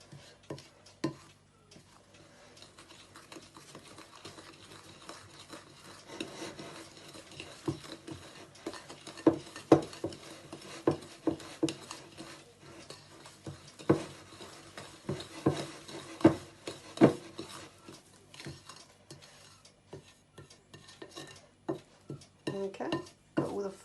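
Flour being stirred into a stiffening biscuit mixture in a bowl, with a spoon scraping and knocking against the bowl in irregular clinks and soft thuds, close by and moderately quiet.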